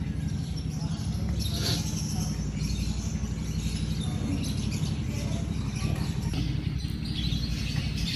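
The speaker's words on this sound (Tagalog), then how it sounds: "diba nakaka-relax kasi naririnig niyo yung mga huni ng ibon." Birds chirp and tweet softly in the background over a steady outdoor ambience, with faint voices mixed in.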